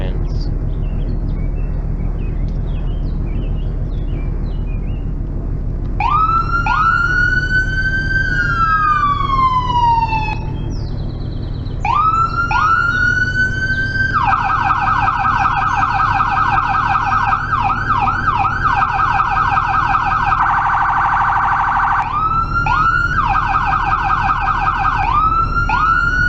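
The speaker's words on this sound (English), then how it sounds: "You got your sirens." Video game police car sirens wail and yelp close by, cycling through rising sweeps, fast warbles and a steady tone over a low engine hum.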